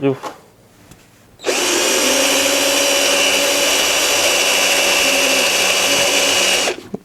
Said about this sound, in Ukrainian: Так, і на черзі у нас метал. Ось такий ось швелер має він в товщині 5 мм.